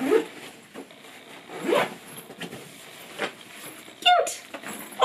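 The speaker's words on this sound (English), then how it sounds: "And then we zip it." A zipper drawn closed on a travel bag, with scratchy pulls at intervals and a faint rub between them, close by and with no talk.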